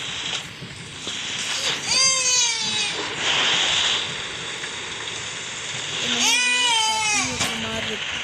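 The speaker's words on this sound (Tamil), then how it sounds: "குழந்தை அழுகுற சத்தம் கேட்குது." A baby's wailing cries in the horror game Baby in Yellow come in two separate bursts, each loud and drawn out, over low background game ambience.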